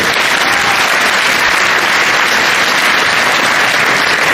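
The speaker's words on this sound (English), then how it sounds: "So please give them another round of applause to all the volunteers." An audience at a community festival gives a loud, sustained round of applause for the volunteers, steady dense clapping from a large crowd holding evenly throughout with no break.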